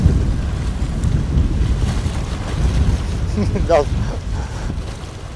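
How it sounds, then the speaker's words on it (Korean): Strong wind blows at a sea fishing spot, a steady rumbling roar buffeting the microphone, with a brief faint voice-like sound partway through. "시간이 갈수록 부는 바람이 더 기승을 부리기 시작한다"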